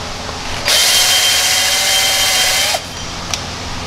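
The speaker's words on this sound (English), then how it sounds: "It goes on the end of a drill, like this." A power drill spinning a hub resurfacing pad over a car's lug stud whirs at high speed for about two seconds, loud and steady with a grinding edge, then stops abruptly.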